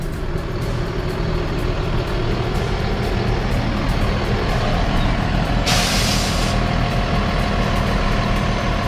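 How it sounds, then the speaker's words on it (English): A motorhome idles with a low rumbling engine, then its air brakes release a sharp, loud hiss partway through before the idling continues. "I love the sound of air brakes in the morning."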